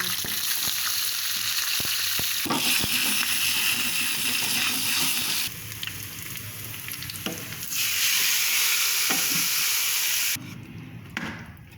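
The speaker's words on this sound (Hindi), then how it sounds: "अब जीरा डाल दूँगी, और ये हरी मिर्ची डाल दूँगी, और लाल मिर्ची डाल दूँगी।" Cumin seeds with green and red chilies sizzle and crackle steadily in hot tempering oil for kadhi pakora, a loud continuous frying hiss that swells and dips in bursts as the spices are stirred.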